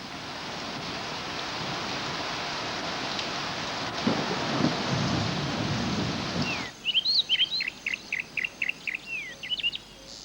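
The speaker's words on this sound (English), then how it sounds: "Only when the rain begins in earnest does Nkosi head for the shelter of the burrow." Heavy rain falling in the African bush as a thunderstorm sets in, a loud dense steady roar that cuts off abruptly, leaving a chorus of chirping insects.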